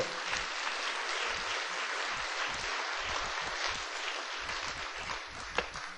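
A crowd applauds in a dense, sustained clatter of clapping that holds steady for several seconds, with no voices standing out.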